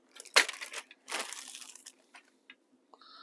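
A cardboard box for a Revell 1957 Cadillac Eldorado Brougham model kit is cut open, giving sharp crunching and tearing bursts followed by scattered softer crinkles and clicks, close and fairly quiet.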